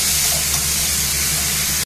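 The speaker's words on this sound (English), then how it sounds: "Now I am going to add onion, ginger, garlic paste." Onion, ginger and garlic paste fries with tomato, salt, whole cumin and chili in a hot pan for a curry. It gives a steady close sizzle that cuts off abruptly at the end.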